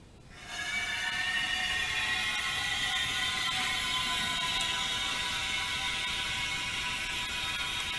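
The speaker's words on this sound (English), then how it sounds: "I got the air hose connected, and we'll do a lift." Pneumatic jack lifting under a slowly opened air valve with the hose connected, a steady mechanical whir with rising tonal whine that starts abruptly and holds loud and close, no talk.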